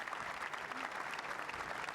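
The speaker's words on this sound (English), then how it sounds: "John Higgins applauding." Applause for John Higgins and Ding Junhui after the 2009 UK Snooker Championship final in Telford: a full arena crowd clapping steadily, dense and continuous, heard at a moderate distance.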